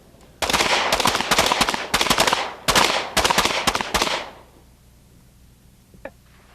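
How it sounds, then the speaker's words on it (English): Shotguns fire at a trapshooting event in rapid bursts of loud, close, cracking reports over about four seconds. The shots end abruptly, leaving quiet ambience and one faint click. "And she's shooting strong here."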